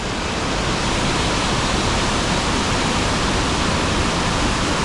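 A large monsoon waterfall in Charmadi in the Western Ghats roars as a steady, dense rush of falling water, loud and unbroken, with no voices.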